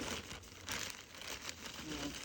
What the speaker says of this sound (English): I've started to reuse my plastic bags, so I'm just rinsing them out.